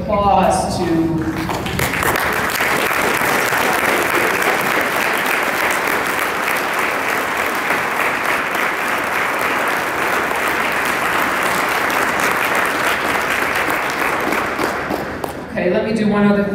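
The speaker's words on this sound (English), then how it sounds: "Let's give a round of applause to" A full room of banquet guests at a youth academy awards dinner claps steadily for about fifteen seconds, loud and continuous, with brief talk at the start and close.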